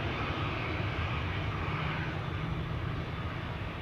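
An airliner departs from runway 09 at Amsterdam Schiphol Airport, its engines a steady, loud broadband roar that holds level throughout with no talk over it.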